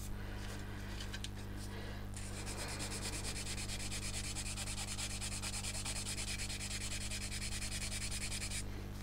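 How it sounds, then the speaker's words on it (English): Quiet, steady rubbing and scratching of sandpaper on thin aluminium foil, with a low hum underneath and a finer, brighter grating through the middle stretch. "you obviously run the risk of sanding clean through this foil"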